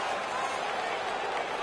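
Hockey arena crowd roars in a dense, sustained wash of cheering and applause right after a fight, with no pauses across the short stretch.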